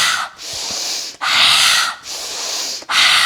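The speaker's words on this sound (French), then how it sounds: "On inspire, on retend et on expire pareil." A person does a forceful breathing exercise, with loud, close breaths through the nose in a steady rhythm of four long, hissing strokes alternating inhale and exhale, separated by brief pauses and with no speech.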